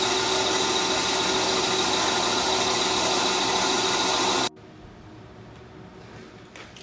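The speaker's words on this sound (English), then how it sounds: "now I'm gonna go ahead and I'm gonna turn and take off some of this part." An aluminum part turns on a lathe with a loud, steady mechanical whir that stops abruptly partway through, leaving a quiet shop hum for the last couple of seconds.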